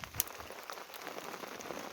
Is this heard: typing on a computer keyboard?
no